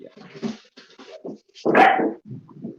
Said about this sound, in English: There must have been a squirrel, so the dogs went barking on me.